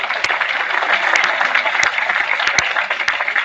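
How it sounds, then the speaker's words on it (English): Audience applause at the inaugural session of an international conference: dense, steady clapping from a large crowd, close and loud, sustained throughout without voices. "Can we have a huge round of applause for her?"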